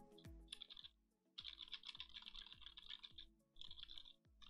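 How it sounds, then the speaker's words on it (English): Keyboard typing picked up by a SteelSeries Arctis 3 2019 Edition headset microphone about 1.5 feet from the keyboard: quiet bursts of crisp clicks in quick runs, separated by short pauses, with no talking. "see how much keyboard clicking this headset picks up"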